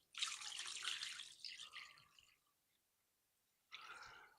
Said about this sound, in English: So let's put some water in there and see.